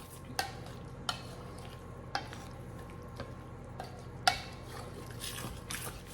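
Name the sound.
stirring turkey or chicken cornbread dressing mixture in a bowl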